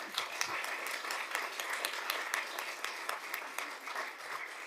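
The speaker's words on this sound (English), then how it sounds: "So I want to give everybody a round of applause for that." A school board meeting audience gives a round of applause, soft and somewhat distant, with individual sharp claps standing out from the steady crowd clapping.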